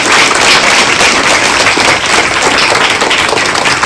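Loud, steady applause from a crowd, dense clapping sustained throughout with no break.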